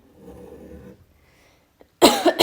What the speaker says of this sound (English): the cough has come